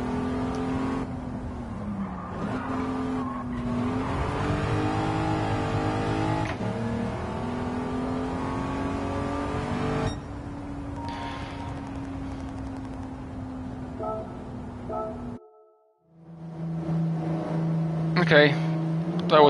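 Game car engine in Gran Turismo 7 revving up with steady droning pitch shifts, briefly cutting out before returning louder with a new tone, while someone talks over it throughout.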